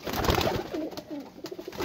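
Golden pigeons, young birds kept in a Lahore loft, give a short, soft cooing call close by, with a few low rolling coos over a couple of seconds and no talking.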